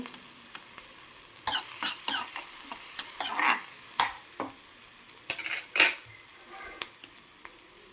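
Capsicum and mushroom sizzle steadily as they fry in a pan, with a utensil scraping and clinking against the metal in irregular strokes, close and clear.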